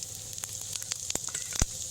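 Dried red chillies and whole spices crackle in a small amount of hot mustard oil, a steady close sizzle broken by sharp pops, with one loud burst near the end.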